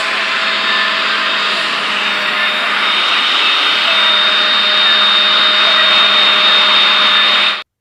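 A hair dryer blows steadily on glued hair while styling a little girl's short hair, a loud, even whoosh that holds unbroken for several seconds before cutting off abruptly.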